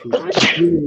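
A single sharp, loud sneeze bursts out close by, brief and forceful, with voices around it.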